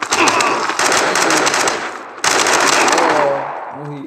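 Loud, dense gunfire from the shooter game Modern Ops: a long rattling automatic burst, a brief pause, then another sustained volley.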